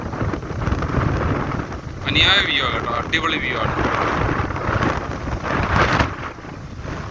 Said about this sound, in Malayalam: നിങ്ങൾക്ക് ഈ കാറ്റിൻ്റെ സൗണ്ട് അറിയാൻ പറ്റുന്നുണ്ടായിരിക്കും